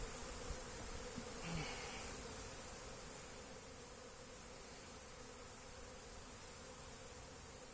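Bees hum steadily around a beehive, a soft, continuous buzzing swarm with no talk.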